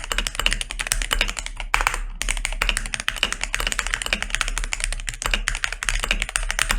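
Rapid, continuous typing on a DrunkDeer G60 rapid trigger mechanical keyboard, dense clacky keystrokes heard up close with a steady low hum beneath and a brief pause near the middle.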